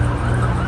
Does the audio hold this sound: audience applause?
no